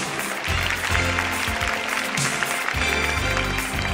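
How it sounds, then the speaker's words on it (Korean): Steady applause from a crowd at the SBS Drama Awards 2014 fills the whole stretch, loud and continuous with some background murmur. "자 여러분 다시 한번 박수 부탁드리겠습니다"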